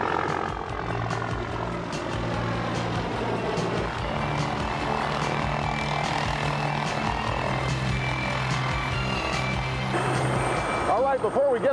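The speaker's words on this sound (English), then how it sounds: "That's where the helicopter comes in." A helicopter's droning engine with a steady rotor hum and whining tones, close and continuous, swelling louder near the end.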